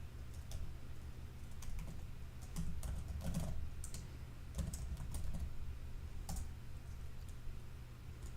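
Fast, continuous typing on a computer keyboard, with close, crisp key clicks in steady irregular bursts over a low background hum and no voices.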